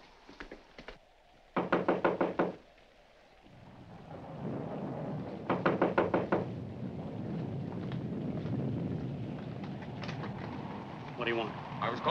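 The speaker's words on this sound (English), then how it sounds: "there's someone at the front door." Someone knocks at a front door in a 1946 film, two rapid bursts of several loud knocks separated by a pause, with wind and storm noise rumbling underneath and a later faint rattle.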